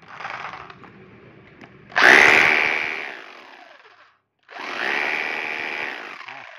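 A battery-powered rotary hammer drill running in short bursts: a loud whining, rattling drive that spins up, winds down, pauses, then starts again, heard close with no talk.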